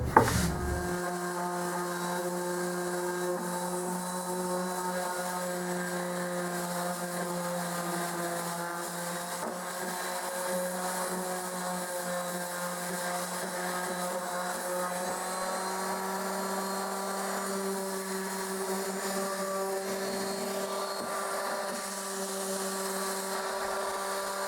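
A power tool rounding the corners of ash wood pieces, a steady, loud, close whine that holds a constant pitch throughout, with a brief start-up at the beginning and no pauses.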